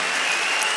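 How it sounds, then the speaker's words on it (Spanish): Church congregation applauds for Pastor Juan Cano, a dense, continuous roar of clapping that holds steady and loud throughout. "Vamos a darle un fuerte aplauso."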